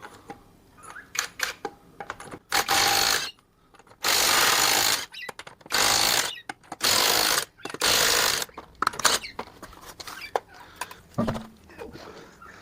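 Lug nuts on a rear wheel of a 2010 Ford BF Falcon are undone with a powered ratchet or impact tool: several loud close bursts of about a second each, separated by pauses with clinks and handling noises.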